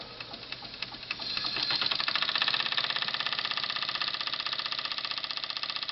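A small oiled model steam engine running on warm water in its tank at low pressure, a fast steady mechanical chuffing and clatter that builds up and then holds an even rhythm close by.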